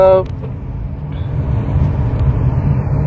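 Low, steady engine and road rumble from inside a 2024 Tata Safari facelift SUV on city roads, continuous and moderately loud, with a brief tonal chime at the very start.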